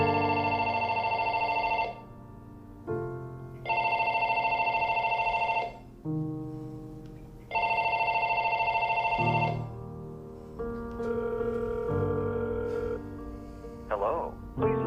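A phone call rings repeatedly in long, even electronic tones with pauses between them, then shifts to a different tone pattern as the call forwards toward voicemail; a voice briefly speaks over the end.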